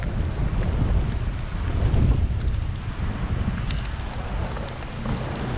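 Rain while riding a bicycle through city streets, a continuous wet hiss mixed with gusty wind buffeting the microphone and low rumbling, fairly loud and unbroken with no voices.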